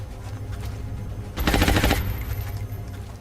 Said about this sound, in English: It's shooting at the cyber disc.